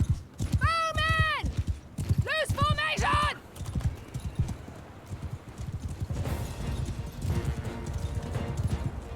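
Horses galloping across a medieval battlefield in the video game Mount and Blade Bannerlord, rapid rhythmic hoofbeats thudding throughout, with loud neighs and whinnies early on and someone talking over the action.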